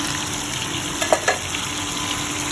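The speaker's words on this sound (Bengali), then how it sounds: "আর এখানে মাছটা ভাজতে বসিয়েছি।" Fish frying in a pan, a steady close hiss of hot oil with a couple of brief pops and spatters partway through, no voices.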